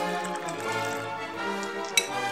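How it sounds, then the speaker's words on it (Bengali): A spoon stirs sugar into water to dissolve it for a jaljeera mint sherbet, with a steady clinking and scraping against the glass and one brighter clink near the end. "এবার ভালো করে চিনিটা আমি গুলে নেব"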